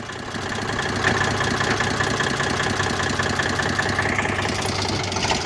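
A tractor engine idles nearby on a farm, a steady, throbbing mechanical rumble with a rhythmic knock that continues evenly without voices.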